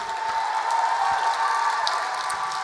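An audience at the Verselandia 2017 poetry slam claps for a poet in a dense, sustained wash of applause that holds at an even level from start to finish, with no voices standing out.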